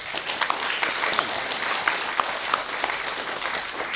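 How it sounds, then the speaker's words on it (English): Audience applause at a primary school state debating championship, sustained even clapping from a sizeable crowd with a few sharper individual claps standing out. "give them a round of applause now"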